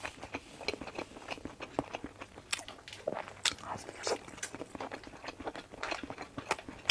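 Crisp bites and chewing on a spicy braised snack with juicy filling and a chili-oil coating, close and repeated in an irregular rhythm of sharp crunches with no talk.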